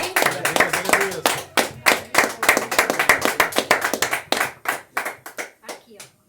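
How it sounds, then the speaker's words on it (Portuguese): A church congregation claps for the Lord, making sharp, distinct handclaps in a loose rhythmic pattern that slows and thins toward the end, with voices talking underneath. "E as palmas lá para o Senhor, amém?"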